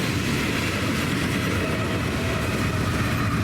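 A BNSF grain train rolls steadily past close by, its rear DPU locomotive adding a loud, continuous rumble and roar with rail noise throughout and no voices.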